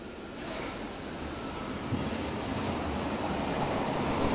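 A Berlin U6 subway train rumbles steadily past at Rehberge station in Wedding, a continuous loud roar of wheels and motor without any voices.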